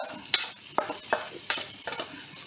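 Pumpkin seeds crackle and rattle in a hot pan, with sharp bursts of sizzling every half second or so, close and fairly quiet, no voices.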